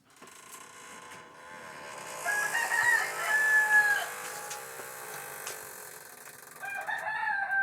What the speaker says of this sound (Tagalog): Meron ding tandang.